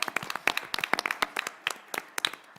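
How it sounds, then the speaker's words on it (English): Attendees at a school district board meeting clap for honorees in the front row, a sparse scattering of distinct individual claps rather than full applause, fairly quiet and irregular in rhythm. "Let's give them a big round of applause."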